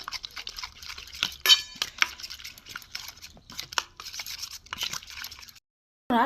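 Thin egg-and-vegetable batter with a little water and salt being stirred in a bowl, with soft scraping and clinking of a utensil against the bowl in short irregular bursts, close and fairly quiet.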